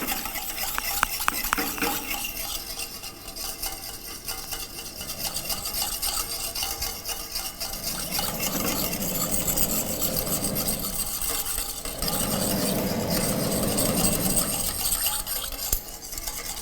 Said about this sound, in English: Mix it well at the low flame.